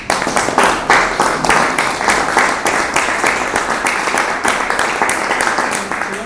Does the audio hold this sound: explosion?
no